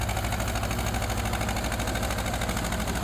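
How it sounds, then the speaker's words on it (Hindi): A 1973-model tractor engine chugs steadily while pulling a 12-disc harrow, a loud continuous mechanical drone with a fast even beat and no talking. "और 12 तवों के हैरों पे चल रहा है ट्रैक्टर"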